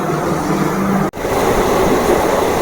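A passenger train rolls on with a steady loud rumble and rushing noise, broken once by a brief dropout, with no talk.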